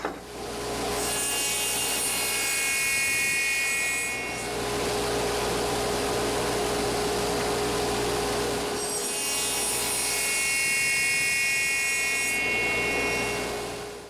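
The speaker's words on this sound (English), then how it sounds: "I'm just going to pass it through the table saw and square up the ends" A table saw squares up the ends of a wooden workpiece, with two long, loud, close cuts whose high blade whine rises over the steady motor hum and then fades back.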